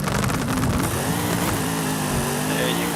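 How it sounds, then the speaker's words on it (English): A 2019 Corvette ZR1 in the racing game Forza Horizon 5 launching hard with launch control and anti-lag, its engine roaring loud and continuous as it climbs through the revs, with a few crackling pops along the way. "Like the way it takes off with the launch control and the anti-lag."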